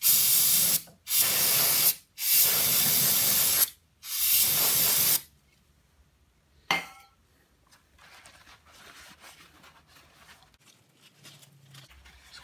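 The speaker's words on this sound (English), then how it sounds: "So I'm probably just going to hit it with a little carb cleaner" Carb cleaner sprayed onto a part from a 1984 Yamaha G1 golf cart engine: four loud, close hissing bursts of a second or so each, followed by a single short spritz, then faint handling noises.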